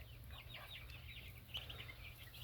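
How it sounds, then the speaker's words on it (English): Muscovy ducks calling faintly in a farmyard, a run of soft, repeated hissing and chirping calls over a low background hum. "there's all the other Muscovies ducks"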